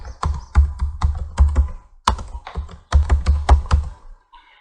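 Rapid clacking of computer keyboard keys in bursts, with a short pause midway before the typing resumes, close and crisp, no voices.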